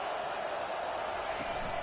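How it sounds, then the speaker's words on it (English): A loud, steady stadium crowd roars throughout a college football game in NCAA 25, a dense wall of cheering and noise pushing to rattle the offense on a third-down play. "It is getting loud as this crowd tries to help its defense."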